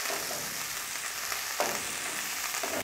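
Culantro and spinach frying in a pan for a fish stew, giving a steady, close crackling sizzle with a few louder bursts from stirring.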